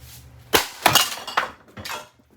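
Someone smashes a Harbor Breeze ceiling fan to break off its screws, giving four sharp, ringing metallic strikes in uneven succession, each with a brief clattering tail, loud and close.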